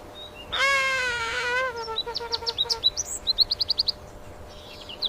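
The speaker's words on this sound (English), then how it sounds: "It's a bird." A bird gives one long, harmonic call followed by a rapid series of short, sharp chirps, clear against a quiet background with no talking.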